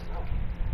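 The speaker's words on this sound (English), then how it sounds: "That's a lot of dogs." A pack of dogs barks in Minecraft during an illager war, a dense, muffled clamour of yips and bow-wows packed into a brief, continuous burst.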